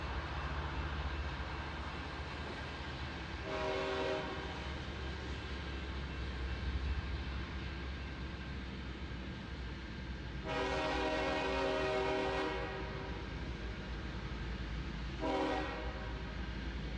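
Freight train locomotives returning from a steel mill yard give three horn blasts, one short, one long and one brief, over a steady low rumble of engines idling and rolling nearby.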